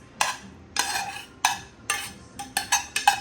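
Sautéed onions being stirred into a pan of homemade dressing, a series of sharp utensil scrapes and clinks against the dish at an irregular, quickening pace, close and clear with no talk.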